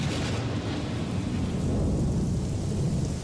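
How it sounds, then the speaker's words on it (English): Steady heavy rain pours in a cartoon while deep thunder rumbles continuously underneath, dense and loud with no pauses and no voices. "Rain!"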